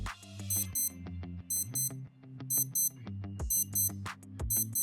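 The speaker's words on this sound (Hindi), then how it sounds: "आपको एक बार मैं इसका अलार्म भी सुना देता हूँ" A Casio A159 digital watch alarm beeps in repeated bursts of high, sharp tones, layered over a pulsing electronic melody with a regular rhythm, loud and close.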